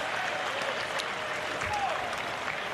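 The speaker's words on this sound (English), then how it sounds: "check into the game along with Sam Hennessy, getting a nice round of applause." Steady crowd applause at a college basketball game, a dense patter of many hands clapping continuously at moderate volume, with a faint voice briefly audible underneath.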